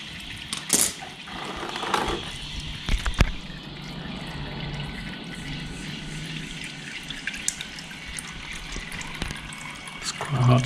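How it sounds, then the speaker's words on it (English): Hot engine oil drips from a 2010 BMW F650GS motorcycle during a major service, with sporadic soft drips and taps over a low, steady background hum. "It's starting to drip now."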